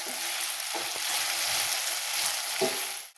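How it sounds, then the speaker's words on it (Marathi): Mixed vegetables with bitter gourd sautéing in a pan make a steady, close sizzle that runs the whole time, with a few soft stirring knocks. "आता परत एकदा सर्व भाज्या मस्त परतून घ्यायच्या"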